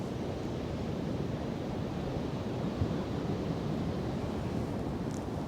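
Wind blowing outdoors on a blustery day, a steady broadband rush with low buffeting against the microphone, continuous and fairly quiet with no voices.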